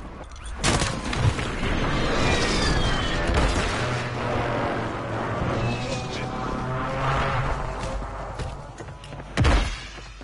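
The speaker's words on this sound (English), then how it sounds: "Hostile airstrike near your location." Airstrike explosions in a video game rumble as a dense, continuous barrage of booms and thuds with sharp bursts near the start and end, loud and close.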